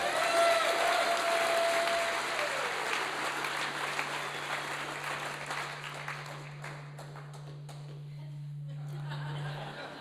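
Audience applause for the Cold River Radio Show crew at a Christmas show, loud at first and thinning over ten seconds, with scattered chuckles and a steady low hum underneath.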